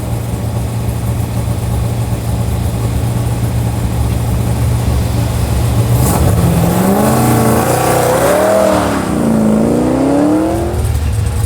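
A car on an autocross course at a Goodguys event in Scottsdale, Arizona, idles with a steady low hum, then revs hard around six seconds, its engine note climbing and dipping through repeated accelerations, loud and close.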